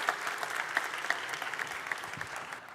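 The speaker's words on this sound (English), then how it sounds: "Please give him a hand of applause." A conference audience applauds a speaker before his talk on fighting corruption with technology, a fairly quiet, steady patter of clapping with distinct individual claps.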